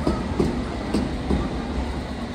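A London Underground train runs through the tunnel toward South Kensington, a steady loud rumble marked by rhythmic clacks of wheels over rail joints.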